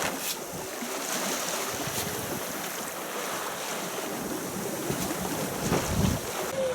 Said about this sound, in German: Wegen ungünstigen Windverhältnissen segeln wir jetzt aber aussen rum.